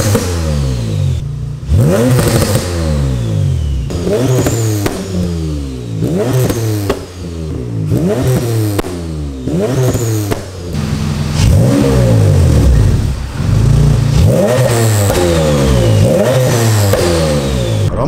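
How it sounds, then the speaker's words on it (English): A boosted Acura TL-S with an aftermarket catback exhaust revs repeatedly, rising and falling in sharp bursts with a throaty, raspy exhaust note, loud and close, with no talking. "It almost sounds like there's an exhaust leak."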